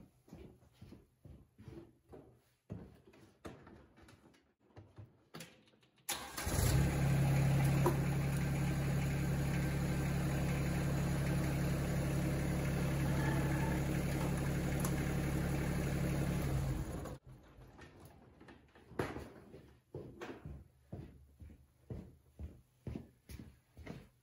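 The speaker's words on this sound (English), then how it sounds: "All right, we'll fire the tractor up and back it up." A Yanmar SA324 compact tractor engine cranks and catches, then runs at a steady, loud diesel idle for about ten seconds before shutting off, with quieter handling noises before and after.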